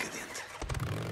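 A motorcycle engine in the Days Gone video game catches and starts with a short rough burst that settles into a running rumble over a steady background hiss.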